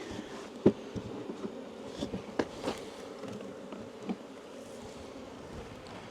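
A whole bunch of bees buzzing close by, a faint continuous hum with scattered sharper knocks and bumps over it, no talking.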